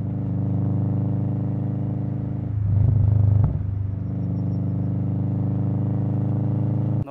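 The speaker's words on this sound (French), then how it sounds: "Est-ce que tu sais pourquoi les Subaru elles font ce bruit là?" A Subaru with unequal-length exhaust headers idles with a deep, lumpy rumble, swelling briefly in a short blip of revs midway before settling back to a steady burble; no talk over it.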